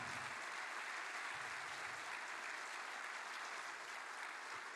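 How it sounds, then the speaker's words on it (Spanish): Church congregation claps together during a Spanish-language sermon, a dense, steady wash of applause that holds at an even level throughout with no voices standing out. "Dele un aplauso al Señor."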